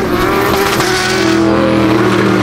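A BMW 1 Series rally car accelerates hard during a race, its engine roaring loudly and steadily with a strong, buzzing drone throughout.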